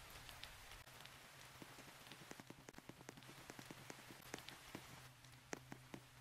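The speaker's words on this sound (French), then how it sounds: "Il pleut dehors, heureusement que j'ai amené mon parapluie." Steady rain in the Roblox game Brookhaven RP patters down with scattered sharper drips landing on a hard surface, a constant wet hiss with no voices.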